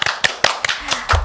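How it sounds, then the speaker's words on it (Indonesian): A small audience claps for a prize draw winner at a talk event, with about half a dozen sharp, scattered claps rather than a dense roar. The sound is close and uneven. "boleh minta tepuk tangannya."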